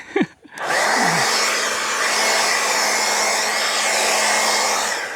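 A hair dryer switches on after a brief noise at a campsite and blows with a loud, steady whooshing roar that holds constant.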